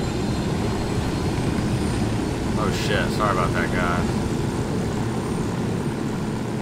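A helicopter in the video game Ghost Recon Wildlands gives off a loud, steady rotor and engine drone that fills the whole stretch, while someone briefly speaks over it.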